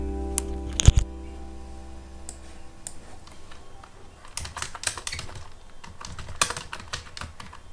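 Close-up typing on a computer keyboard while entering text in MS Word, with irregular bursts of clicking keys, a few louder thumps early on, and brief pauses between runs of keystrokes.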